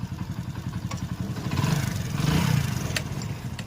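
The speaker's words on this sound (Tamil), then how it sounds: "வண்டியோட இன்ஜின் பீட் எப்படி இருக்குன்னு பாருங்க" A Hero Honda Splendor motorcycle engine idles close by after engine work, with a steady, rhythmic thumping beat that swells slightly midway, with some mechanical clatter on top.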